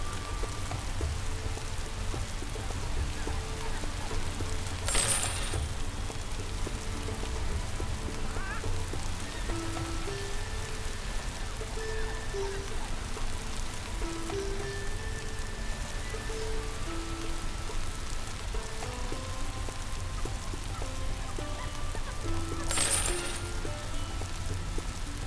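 Rain patters steadily in The Settlers, an even wash of drops that runs on without pause, with faint tonal game music beneath it and no one speaking.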